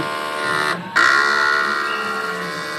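An inkjet printer runs a print head cleaning cycle, giving a steady mechanical whir with a brief dip before it resumes and continues evenly.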